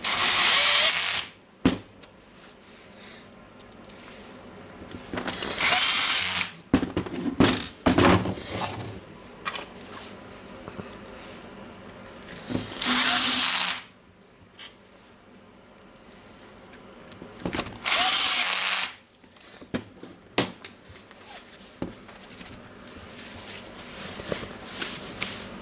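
A power drill driving screws into the housing of a Hitachi DH22PH rotary hammer, several loud whirring bursts of a few seconds each separated by quieter handling clatter.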